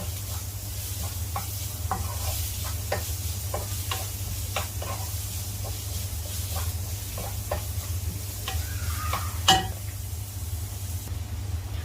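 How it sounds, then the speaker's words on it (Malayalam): Venison roast with onions being stirred in a pan, Kerala style: steady scraping and clinking of a spoon against the pan over a low, constant sizzle, with one sharper knock near the end. "എല്ലാം കൂടി ഇളക്കി യോജിപ്പിച്ച് കൊടുക്കുകയാണ്."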